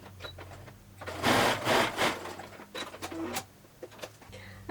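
A sewing machine stitches fabric for a phone pillow in a short burst, fairly close, followed by quieter clicks and small handling sounds.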